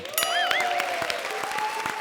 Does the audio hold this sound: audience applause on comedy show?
yes